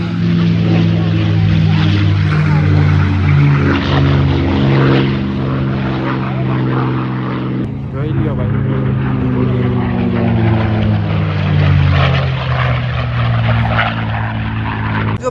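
Propeller airplane flying at an air show in Canada, a loud, steady droning engine roar that swells and eases slightly as it passes, filling the whole stretch without pause.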